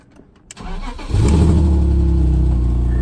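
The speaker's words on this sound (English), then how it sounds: "Let me see if the car still starts." A BMW E39 5 Series cranks and fires after steering lock replacement: a brief click and starter whir, then the engine catches and settles into a loud, steady idle close up.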